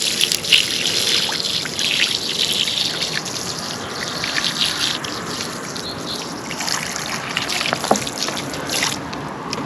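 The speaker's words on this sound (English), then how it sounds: "I'm just going to leave this jug pouring up here so we can kind of see." Water pours steadily from a jug in an outdoor setting, a continuous trickling gush that runs alone without talk throughout.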